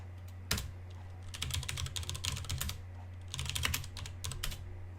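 Keys clack on a computer keyboard as a username is entered, a few quick clusters of close, crisp keystrokes separated by short pauses over a faint steady hum.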